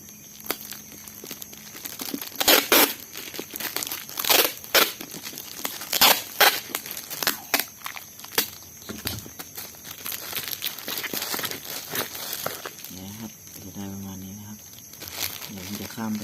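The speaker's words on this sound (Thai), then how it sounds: "เทปกาวติดอีกทีนะครับ" Adhesive tape pulled and pressed onto a plastic cover over a potted plant being packed for shipping, giving crinkly rips and rustles in irregular bursts, with talking at times.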